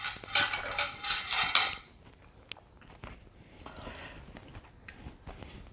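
Crunchy fried food made with bulgur wheat is bitten and chewed up close during a mukbang, with a burst of loud crisp crunches followed by quieter, softer chewing.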